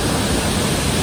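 A waterfall in Jharkhand, a dense, steady roar of falling water filling the whole moment loudly and evenly up close, with no voices over it.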